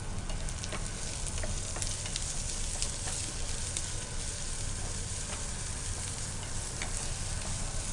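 Chicken fries in hot oil with curry leaves, green chilli and garlic in an Andhra-style pan fry, a loud continuous sizzle with scattered crackling pops and occasional stirring scrapes, close and steady throughout.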